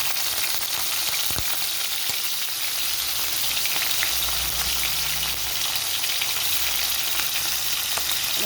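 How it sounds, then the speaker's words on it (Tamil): Garlic and green chilli frying in hot oil for manathakkali poriyal, a continuous bright sizzle and crackle up close, with a brief low knock and some stirring. "காரத்துக்கு ஏற்ற மாதிரி கொஞ்சம் பச்சை மிளகு, நல்லா பொரிஞ்சு வரட்டும்"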